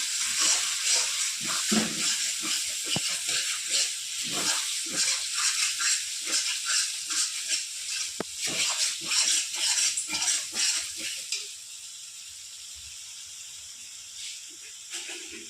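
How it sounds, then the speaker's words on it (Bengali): Spices fry in a pan with a bright, steady hiss and crackle, broken by frequent stirring scrapes, then settle to a quieter sizzle near the end. "আর মশলা ভাজা ভাজা হয়ে এসছে"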